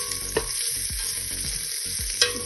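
Salo, cubes of pork fat, sizzles in a pan without oil, with a steady frying hiss broken by repeated scraping stirs and a couple of sharp clinks.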